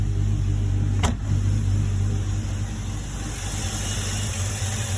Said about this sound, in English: So, engine's running nice and smooth.